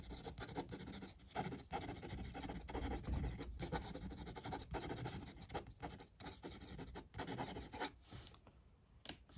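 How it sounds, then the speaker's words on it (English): A blue Xezo Incognito fountain pen nib scratches across paper in a quiet room, a faint close-up rasp with short strokes and brief pauses between words. "We know these cameras do pick up a lot of nib noise on the paper"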